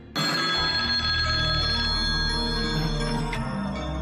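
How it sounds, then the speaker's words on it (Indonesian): A telephone rings indoors, a bright sustained electronic ring that starts abruptly and continues loudly without pause, with no talk over it. "kalau telepon bunyi harus diangkat"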